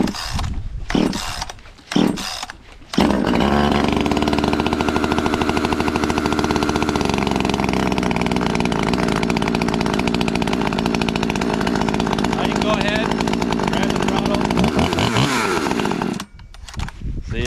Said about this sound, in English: it's gonna go through a cycle and it's gonna change tune on its own